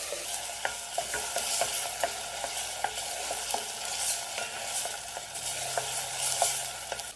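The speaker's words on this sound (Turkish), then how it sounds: "Şimdi salça koyalım salçayla beraber iyice kavuralım." Onion and tomato paste sautéed in a pan for a pea and potato stew, a steady soft sizzle broken by regular scraping stirs, close and fairly quiet.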